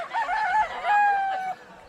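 A rooster crows loud and close at a chicken market, a single drawn-out call in two rising and sustained phrases, with a quiet background of other fowl.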